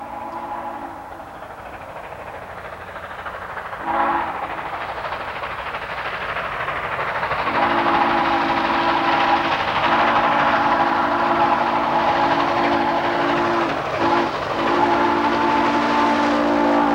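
Southern Railway 2716, a steam locomotive, rolls toward a grade crossing at Sewanee in 1982. Its chugging rumble builds steadily over the whole clip. The steam whistle sounds a short blast early on, then long drawn-out blasts separated by brief gaps.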